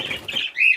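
Startled young birds in a breeding cage flutter their wings in a brief, soft flurry, followed by a short, thin chirp close by, with no talking.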